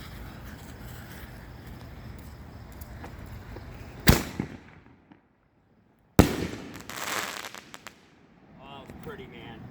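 Fourth of July firework mortars fired from a tube, two sharp loud bangs a couple of seconds apart over a steady outdoor hiss, with crackling trailing after the second blast and people talking.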